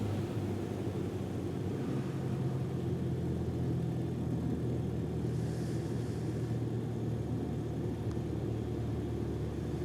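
Flight-simulator aircraft engine throttled back to idle after landing on the runway, a steady, even low hum and drone that runs the whole time with no speech.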